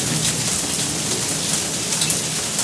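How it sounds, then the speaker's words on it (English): Heavy monsoon rain pours down steadily and close by, a dense continuous hiss of drops hitting surfaces, with a low rumbling roll of thunder running underneath throughout. "It's been one continuous roll of thunder"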